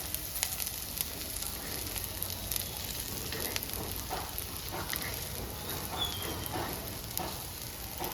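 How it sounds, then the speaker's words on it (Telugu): Sliced okra fries in plain oil in a pan for a Telugu okra chutney, giving a soft, continuous sizzle with fine crackles, quiet and close, with no talking over it. "ఒట్టి ఆయిల్ వేసి ఫ్రై చేసిన అనమాట"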